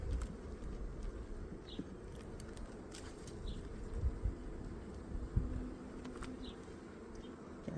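Honey bees buzz around an open hive, a soft steady insect hum with occasional louder passes close by, under outdoor background noise.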